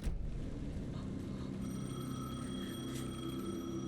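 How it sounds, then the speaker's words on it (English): A telephone rings in the video game Alan Wake 2, a steady bell-like ring with sustained tones over a low ambient game soundscape, and no one speaks. "The phone again."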